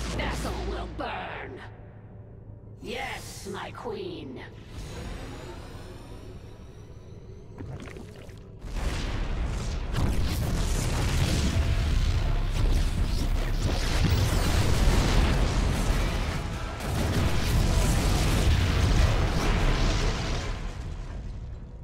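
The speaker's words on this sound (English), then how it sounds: "The explosions have stopped" Deep rumbling blasts and explosions in StarCraft II: Heart of the Swarm build into a sustained roaring wash, loud and close, with no voices.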